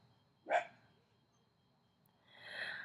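A single dog bark rings out at moderate distance over a low background rumble, followed later by a rising hiss-like sound near the end; no talking.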